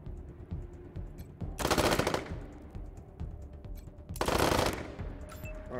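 Gunfire in the video game Wasteland 3, two loud bursts of rapid automatic fire about two and a half seconds apart, each lasting under a second, over a quiet game background.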